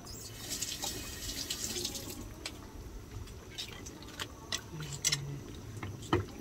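Water poured into a cooking pot of coconut-milk stew with long beans, squash and shrimp makes a steady, close splashing rush with a few small clinks and taps of utensils, and no talking.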